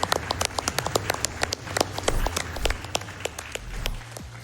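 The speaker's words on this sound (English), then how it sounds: "let's get one more big round of applause for the Retro Runner" An audience applauds after a Ninja Gaiden speedrun at a live marathon event, with dense, close clapping that carries steadily throughout the clip.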